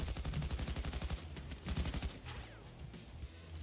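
Rapid bursts of automatic gunfire from a PayDay 2 heist shootout, dense rattling volleys in quick succession, loud and close, thinning out toward the end.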